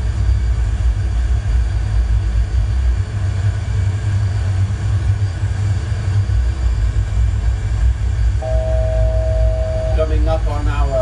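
Steady loud engine drone inside a small aircraft slowed down and stable in flight on a trip from Portland to San Francisco, constant throughout, with a brief tonal beep near the end.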